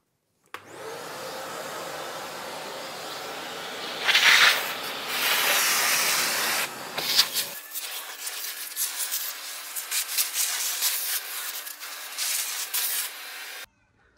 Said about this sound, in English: we'll take the vacuum cleaner.